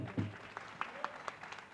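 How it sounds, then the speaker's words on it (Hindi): Modest audience applause at a fair stage show, scattered individual claps standing out in an irregular rhythm over a low murmur, with a brief vocal sound near the start. "एक बार इन्हें भी जोरदार ताली बजाओ सब जने"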